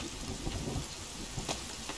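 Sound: rain in the video game The Forest

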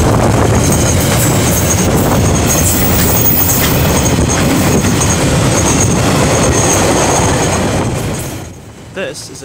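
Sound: KiwiRail DL9659 locomotive passing level crossing with freight train 483

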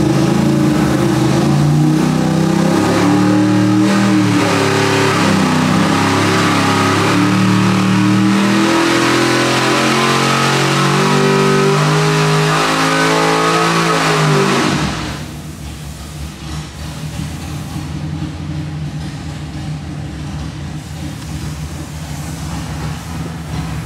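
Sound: 1,000hp 632 big block Chevy engine revving on dyno

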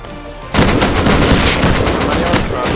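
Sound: gunfire in the video game Rust

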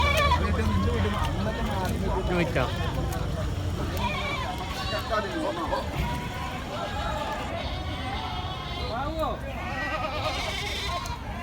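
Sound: goat kids bleating at a livestock market

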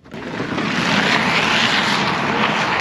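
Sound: 2023 Chevrolet Bolt EUV electric car accelerating in sport mode

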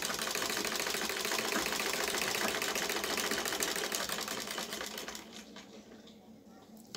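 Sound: sewing machine stitching a fatua shirt

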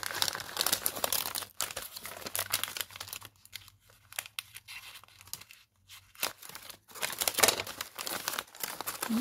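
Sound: unwrapping a gift wrapped in tissue paper

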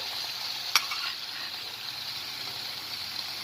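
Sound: surmai fish frying and being flipped in a pan

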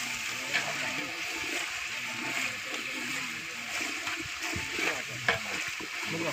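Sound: mixing spices into marinated fish in a pan

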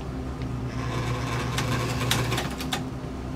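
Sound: sewing machine motor running

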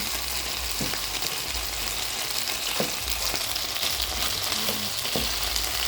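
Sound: chicken wings frying in fish sauce, being flipped

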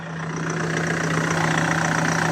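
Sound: Citroen C4 Picasso 2.0 HDi diesel engine idling

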